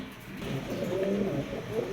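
A pair of fancy pigeons at a bird farm coo softly and steadily. The low, throaty calls sit close under faint background noise.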